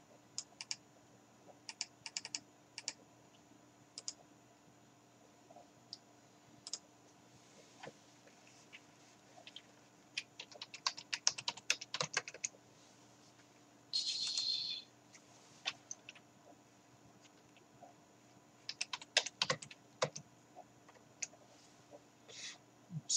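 Keys clatter on a computer keyboard indoors in a quiet room, typing in irregular bursts of rapid clicks separated by pauses, fairly faint and close.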